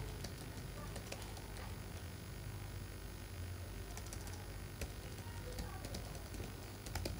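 Keys on a computer keyboard tap quickly and lightly as a website address is typed, soft clicks scattered over a low background hum, with no speech.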